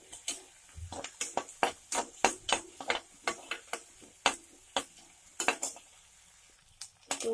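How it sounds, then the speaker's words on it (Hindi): Green onion sautés in a pan for a restaurant-style vegetable soup, a quiet sizzle broken by a run of sharp, rhythmic taps and scrapes from a utensil stirring against the pan. "अब हम इसमें डाल देंगे, सौते करेंगे थोड़ा सा, इसको सौते करना है"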